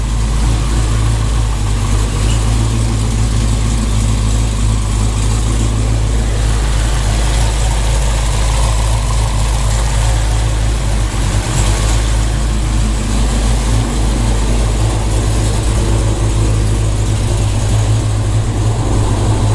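A 1500 hp modified Dodge Challenger SRT Hellcat engine idles right after its first start, full of break-in oil and assembly lube, giving a loud, steady, close rumble with a heavy low-end drone that runs unbroken throughout.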